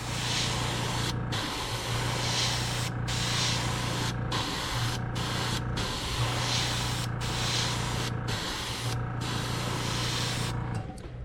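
An airbrush hisses steadily as it sprays thinned pearl blue paint onto a jerkbait fishing lure, with brief pauses between bursts and a low compressor hum running underneath.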